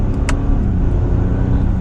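A 2021 Audi A8L TFSI 55 S-Line with a 6-cylinder engine accelerating up a highway on-ramp toward 60 mph, a loud steady cabin rumble of engine and road noise throughout, with a brief click near the start.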